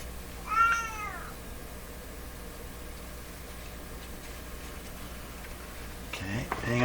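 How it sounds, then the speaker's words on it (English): A house cat gives one clear, rising-and-falling meow near the start, then near silence with a faint steady hiss, and a voice begins speaking close by at the end. "That's my other cat's meow."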